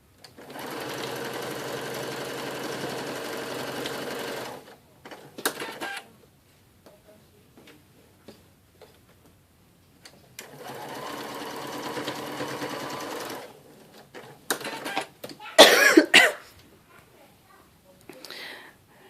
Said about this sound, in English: So I'll start by stitching, these 2 on, and then we'll press them open.